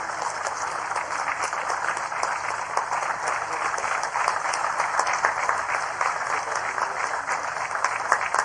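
An audience at a state political event applauds warmly to honour a woman brought onto the stage, with dense, steady clapping that stays loud and continuous throughout without letting up.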